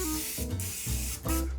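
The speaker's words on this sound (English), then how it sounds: "the very first thing we're going to do is we're going to grease a 9x13 pan" Cooking spray hisses from a can onto a 9x13 baking pan in three short bursts, close and crisp, with brief pauses between them.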